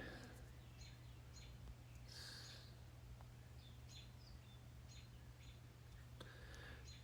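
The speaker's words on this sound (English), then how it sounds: "You get to hear some birds while I do this." Birds chirp and call faintly at a distance outdoors in short scattered bursts, over a steady low hum and under soft background noise.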